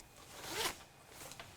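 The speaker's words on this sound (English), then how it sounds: "They got a zipper that runs the full length." A zipper on Kryptek rain gear gaiters is pulled in one quick close stroke, followed by a couple of fainter zip sounds, with no talking.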